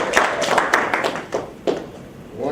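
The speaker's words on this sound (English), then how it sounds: "let's give them a round of applause to welcome them" A small room of people claps to welcome guests at a campus mentoring program meeting, with close, uneven claps and scattered taps that stay steady throughout.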